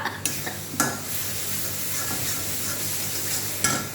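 Bay leaves sizzle in a little oil in a pan for egg curry, making a steady frying hiss broken by a few utensil clicks and knocks, with no talking.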